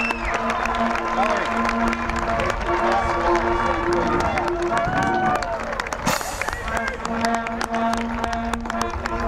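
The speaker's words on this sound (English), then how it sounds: "Let's give a big round of applause to these graduates of Coldwater High School." Crowd of about 2,000 in the stands at a 2019 Coldwater High School commencement applauds and cheers the graduates, a dense continuous roar of clapping and shouts with loud tonal noises and babble mixed in.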